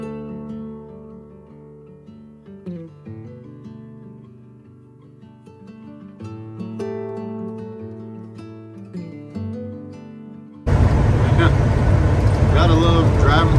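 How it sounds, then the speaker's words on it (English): Music plays for most of the stretch, then a loud, steady highway roar from an RV rig driving through the Midwest cuts in abruptly and continues to the end. "Gotta love driving through the Midwest"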